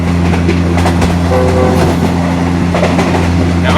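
A Thai ordinary train runs from Cha-Am to Hua Hin, its carriage rumbling loudly and steadily with wheel clatter on the rails, brief horn tones, and wind rushing through open windows.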